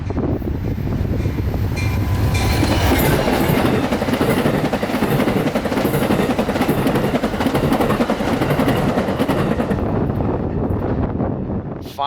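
A long CSX freight train roughly 11,000 feet long labors up a grade in Central Florida, a loud, dense rolling roar of wheels and cars with rhythmic clatter, close by and continuous, with wind buffeting the microphone.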